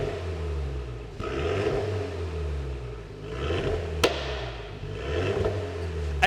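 A Renault Megane RS Trophy 300 engine revs steadily at light throttle around 3,000 RPM, with a couple of sharp exhaust pops cracking through the droning hum.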